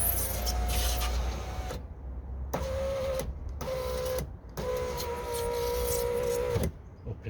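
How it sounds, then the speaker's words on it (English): A car's electric window motor whirs as it drives the glass up and down in several short runs, each a steady mechanical hum that cuts off sharply between stages, close by with no talk. "see if the window goes up and down"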